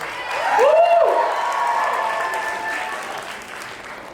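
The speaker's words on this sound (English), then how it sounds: "Please, big round of applause" An award-ceremony audience applauds the sponsors, the Patel family among them. Steady, full clapping swells early and holds, with a rising whoop near the start, then thins slightly toward the end.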